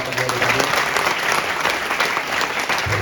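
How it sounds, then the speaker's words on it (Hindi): Loud, sustained applause from a seminar audience, a dense unbroken wash of many hands clapping close by for about three seconds. "मैं चाहता हूं कि एक बार वाराणसी शहर के लिए भी जोरदार तालियां बजाएं"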